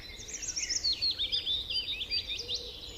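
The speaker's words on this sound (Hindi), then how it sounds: "आपको चिड़िया के चहकने की आवाज आ रही होंगी" Birds chirp and twitter in quick, warbling bursts, faint and somewhat distant over a quiet background, the calls overlapping in an irregular stream.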